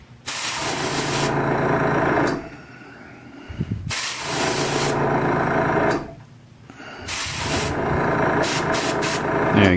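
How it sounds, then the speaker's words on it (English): A loud, steady hissing and mechanical whir from a nearby air compressor, cutting out briefly twice before running again. "Sorry about the noise, that's just the air compressor cutting in."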